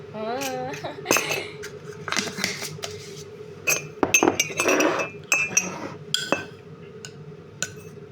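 A metal spoon clinks against a glass while coffee is being made, with several bright taps and stirring rattles scattered through the clip and someone speaking softly between them.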